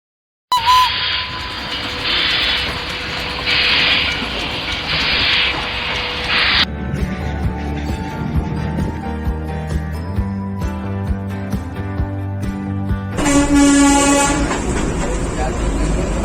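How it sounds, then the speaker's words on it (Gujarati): Darjeeling toy train running near Batasia Loop, with long sustained horn blasts and the rumble and clatter of the carriages passing close by, loud and continuous. "પાછળ લાઇટ ટ્રેન છે"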